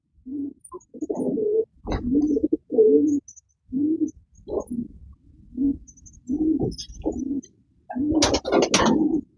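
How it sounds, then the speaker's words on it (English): Panis stock pigeons coo in a loft, a series of close, soft, throaty coos and burbles in short repeated bursts with brief pauses, ending with a brighter flurry of wing flutter. "These are all Panis pigeons."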